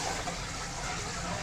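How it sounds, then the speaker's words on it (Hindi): Water is poured into a pan of fried karela, bitter gourd, being cooked with chana dal, a faint, steady, even gush of liquid lasting the whole moment with no talk. "ये मैंने पानी ऐड किया"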